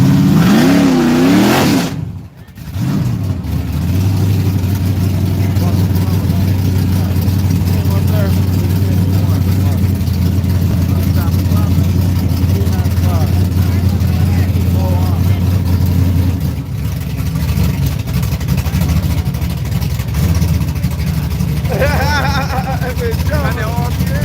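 A drag racing car idles and revs loudly at a drag strip, a sustained throbbing engine drone with a rising rev, amid crowd babble and people talking nearby.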